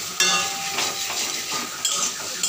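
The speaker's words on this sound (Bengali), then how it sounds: "রাতের রান্নায় করছি পেঁপে আলু দিয়ে তরকারি। আমার তরকারিটা কষানো হয়ে গেছে" Papaya and potato curry sautéing in a pan on a home stove, giving a steady close sizzle with scraping stirs and occasional light clinks of utensil against metal.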